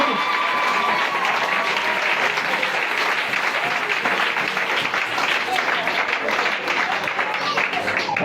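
Audience at a church seminar applauding loudly and steadily, dense clapping throughout with crowd noise and voices mixed in.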